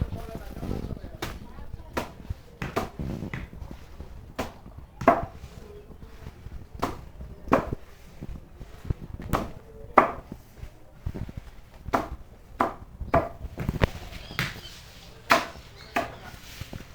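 Grass being chopped for cow feed at a home with cattle, a steady series of sharp, close blade strikes about once a second, with voices talking faintly underneath.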